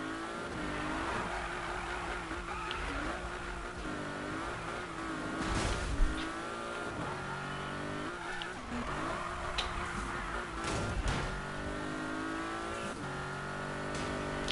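Race cars in a video game minigame, including a Porsche and a Lamborghini Aventador: continuous engine drone with rising and falling revs and occasional tire noise, steady and moderately loud throughout.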